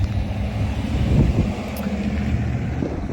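A car rumbles past on a small-town street, a steady low engine and tyre roar that swells slightly mid-pass and holds fairly close throughout, with no talk.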